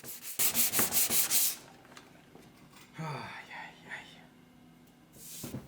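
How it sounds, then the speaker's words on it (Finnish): Wood stain being sanded off a Chippendale chair by hand, a steady rhythmic rasping of strokes close up, loud at first, then quieter rubbing with a later burst. "Koitan hioa petsiä tai jotain pois pelastaakseni tilanteen"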